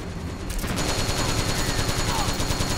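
Rapid bursts of automatic gunfire crackle through a Metal Gear Online match, dense repeated shots running throughout at close range, with players' voices talking over the shooting.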